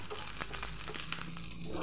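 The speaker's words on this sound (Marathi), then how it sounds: "कांदो भाजून घेता" Onion frying in a pan for a mutton curry, a close crackling sizzle with a few light stirring knocks, no one speaking.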